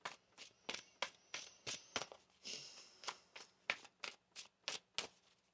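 A deck of tarot cards is shuffled by hand in a run of quick, soft riffling and slapping bursts, close and quiet, with no talk.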